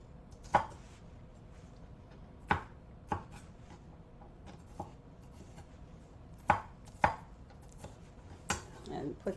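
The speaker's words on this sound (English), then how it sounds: "So I'm just going to cut this one up." A kitchen knife chops bell peppers into pieces on a cutting board, giving about ten sharp, distinct knocks at an uneven, unhurried pace. The strikes are close and clear against a quiet room, with no talk.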